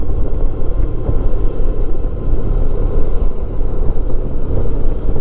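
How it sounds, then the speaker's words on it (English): Steady, loud wind rush and low rumble while riding a 1994 Honda ST1100 motorcycle, buffeting continuously close to the microphone with no talking. "just take it off and save it, otherwise I'll lose it, and just record the regular wind"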